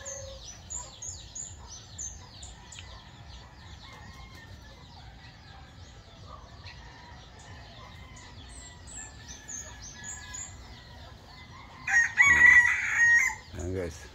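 A rooster crows repeatedly among clucking chickens at feeding time in a backyard near moringa trees. The calls are steady and moderately distant, with a louder, closer burst of crowing and clucking near the end.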